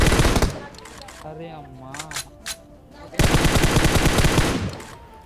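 Bursts of automatic gunfire in a battle royale game, a dense loud volley opening and a second long rapid burst after a quieter stretch, with a voice briefly exclaiming between them.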